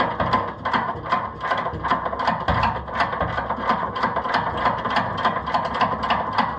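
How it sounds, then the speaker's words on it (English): A Craftsman ratcheting wrench clicking in fast, even bursts of ratchet pawl ticks, close and loud, repeating steadily throughout with no talking, in a shop where an Oliver 1365 tractor is being restored. "This is a Craftsman ratcheting wrench"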